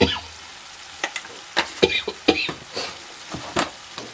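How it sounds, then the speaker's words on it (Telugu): Masala for a murrel fish curry fries in a pan, a soft sizzle broken by repeated scraping strokes of a spoon stirring it, irregular and close. "చూసారా, ఇలా మంచిగా ఫ్రై అయింది కదా"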